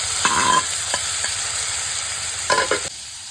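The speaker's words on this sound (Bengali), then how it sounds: "পেঁয়াজটা এমন ভাজা হইতে গেলেই আবার দিয়ে দিলাম চিংড়া" Shrimp dropped into hot oil with frying onions give a steady sizzle, with a few short bursts of stirring and spatula scrapes near the start and end, close and fairly loud.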